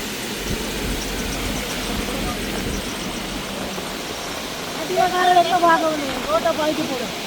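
Steady, broad rushing of floodwater after a cyclone in the Vanni region of Sri Lanka fills the scene, with a voice briefly talking over it near the end.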